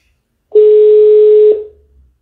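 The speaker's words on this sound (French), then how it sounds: "je vais essayer de rappeler les appels en absence" A single steady telephone tone sounds for about a second, loud and close, while missed calls are being called back. It cuts off sharply and leaves a faint low hum.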